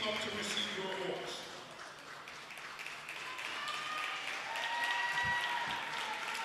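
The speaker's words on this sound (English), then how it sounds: "give a round of applause to the LREI Knights" At a junior varsity basketball championship awards ceremony in a gym, the crowd applauds the LREI Knights with a moderate, somewhat distant clapping, while voices and chatter mix in over it.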